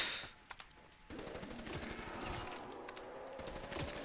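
Automatic weapon fire from Black Ops 3 Zombies on The Giant map, a sustained rattling burst that starts after a brief lull and runs steadily to the end, moderately loud with no talk over it.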